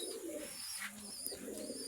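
Domestic pigeons of local and foreign breeds cooing in a loft, soft low coos repeating against a quiet, steady background.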